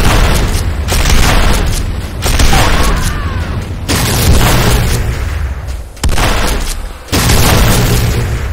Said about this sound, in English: GDI Advanced Guard Tower destroyed.